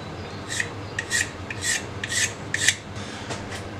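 Carbon kevlar-skinned RX7 door handles are sanded by hand in a series of quick, rasping strokes, close and fairly quiet, with about seven distinct rubbing bursts in an uneven rhythm.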